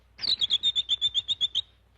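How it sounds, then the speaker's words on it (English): A bird in a Disney cartoon chirps about ten times in a quick, even series of shrill, high tweets, close and clear, with no voices. "That means strange birds."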